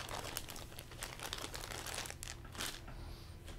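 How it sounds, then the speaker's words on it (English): Bubblegum wrappers crinkle and crumple up close, dense crackling rustles sounding continuously and unevenly with a few sharper rustling bursts, no voices over it. "these are all just bubblegum type wrappers"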